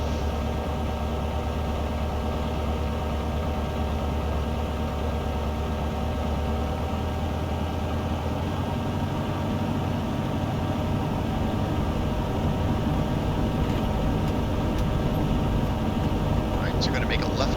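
The steady engine drone of a Piper Cherokee during takeoff in the X-Plane 11 flight simulator, a loud continuous hum that builds slightly toward the end. Faint radio-style talk blends under the engine.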